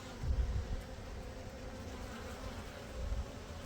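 Honey bees buzz steadily at close range during a beekeeping hive inspection of a package colony, a low droning hum with a couple of louder swells as bees pass near.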